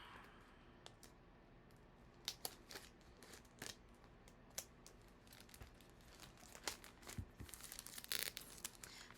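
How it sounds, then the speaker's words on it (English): Quiet snipping of scissors and crinkling of plastic packaging, scattered sharp cuts and rustles close by, getting busier toward the end. "let's try some scissors"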